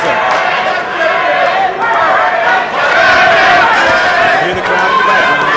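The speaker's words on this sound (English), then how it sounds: "Hear the crowd in the background." Crowd at a boxing match between Myron Taylor and Curtis Strong roars and shouts continuously, loud and close, swelling in waves as a commentator talks over it.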